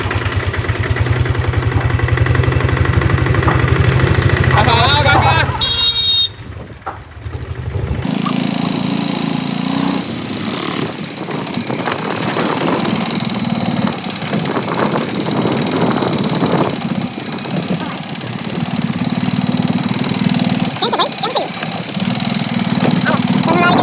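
An auto rickshaw engine runs steadily at close range through the whole ride home, a droning idle-like putter that shifts pitch partway through as the vehicle moves off. People talk over it at times.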